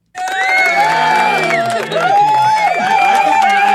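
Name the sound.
cheering crowd sound effect played from a soundboard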